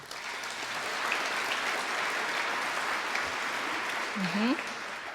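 Steady audience applause at a community awards ceremony honoring volunteers, a dense even wash of clapping that holds for the full stretch, with a brief voice-like sound near the end.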